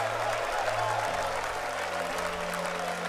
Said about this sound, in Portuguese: Batendo palmas, olha para o céu e comece a glorificar o nome do rei.